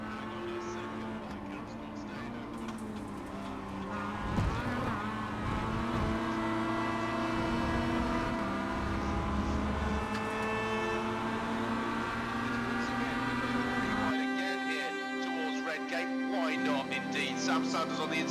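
Race car engines in iRacing hold steady droning tones with shifting pitch through a lap, the whine changing abruptly near the end, while a commentator-like voice talks over it.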